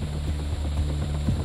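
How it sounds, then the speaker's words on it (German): An NH-90 multi-role military helicopter in flight, its steady low engine and rotor drone carrying on without a break at a moderate, even level. "NH-90-Mehrzweckhubschraubern."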